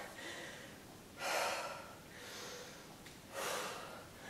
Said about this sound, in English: Get that breathing under control.